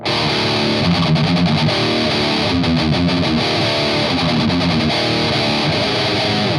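Loud, heavily distorted electric guitar through a cheap Tank-G multi-effects pedal, chords and riffs ringing continuously, close and full.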